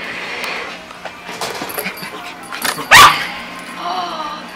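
A puppy barks once, loud and close, during ball play indoors, surrounded by quieter yips, whimpers and a person talking.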